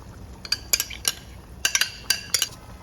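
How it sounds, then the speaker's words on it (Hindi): Tomatoes being added to chicken cooking in a pan, heard as a few sharp metallic clinks and scrapes of a utensil against the cookware in small clusters, quiet and with no talking. "अब इसमें मैं सारे टमाटर डाल दे रही हूँ"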